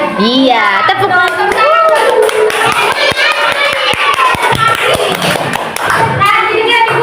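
Children clapping together in a classroom during an elementary school lesson, a loud run of sharp claps mixed with kids' voices and a teacher talking over the noise.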